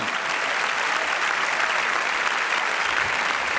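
A comedy-night crowd in Paris claps steadily to welcome a comedian to the stage, a full, even round of applause with no break.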